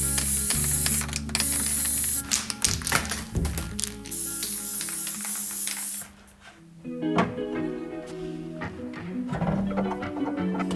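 A continuous hiss of spray paint coating the inside of a BMW E36 Touring body panel near the jacking point, with clicks and rattles of the can, a pause, then more close spraying mixed with clatter.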